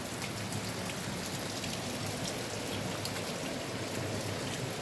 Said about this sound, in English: You hear that sound? It's water rushing out of the hills.